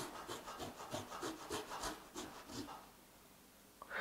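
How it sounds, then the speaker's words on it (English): Unpeeled fresh ginger being grated into a bowl, a steady rhythmic rasping of quick back-and-forth strokes, close but quiet, easing off toward the end. "So we're gonna grate the ginger in."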